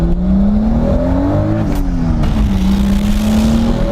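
A 500+ hp Toyota Supra drives along, its engine note rising and dipping through shifts with a loud, steady drone and road rumble heard from inside the car, no talking.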